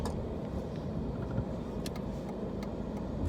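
A car's interior road rumble, low and steady with faint ticks, as it drives along a road in Texas.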